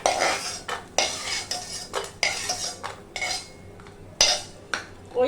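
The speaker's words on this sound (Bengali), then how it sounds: "বাদামগুলো ভাজা হয়ে গেছে, আমি উঠিয়ে নেব।" A metal spatula scrapes and clinks against a wok repeatedly while fried peanuts are lifted out of mustard oil. Sharp, close, rhythmic strokes land about once a second over a faint sizzle, with no voices.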